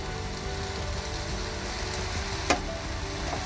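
Tamari hits a hot pan of vegetables for egg roll bowls, and a steady, dense sizzle carries on throughout. One brief sharp crackle stands out midway, and no one speaks.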